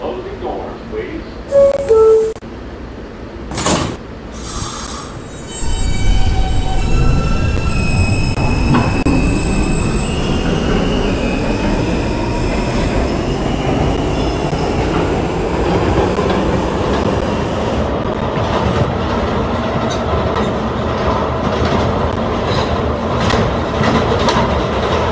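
An R160B Alstom subway train on a Q Express line in the Roblox game PTA Subway pulls away, its motors whining upward into a loud, steady rumble with rail clatter, following door chimes and an automated announcement voice.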